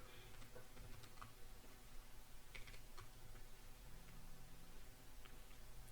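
Keys clack steadily on a computer keyboard as an SQL query string is typed out, with irregular bursts of close, crisp taps over a low background hum.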